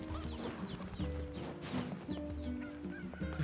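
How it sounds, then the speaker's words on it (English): Cuckoo (cucco) chickens from a Zelda-style video game cluck and honk in a busy, continuous overlapping chorus, layered over steady game music and ambience throughout. "that was definitely the same cuckoo sound from one of the Zeldas"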